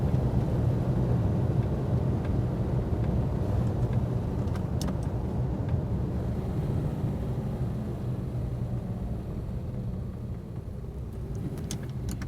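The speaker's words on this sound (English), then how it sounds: "this engine's revving up pretty good." A 1959 Mercedes 220SE engine drones steadily while cruising at about 50 mph with a lower-ratio rear end, a continuous moderate rumble and road noise heard from inside the car without talk.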